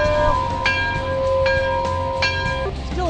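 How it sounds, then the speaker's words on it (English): A bell rings in repeated bright, sustained strikes with long humming tones, over a continuous low background rumble. "Somebody ring the bell!"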